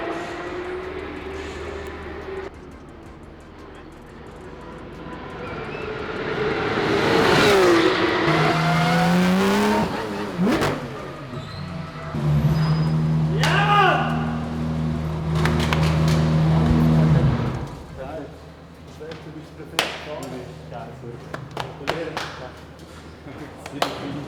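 Race cars at the Portimão circuit in Portugal roar past, with engine note rising and falling as cars approach and recede, loud and continuous over a sustained drone, while a voice talks over the track noise.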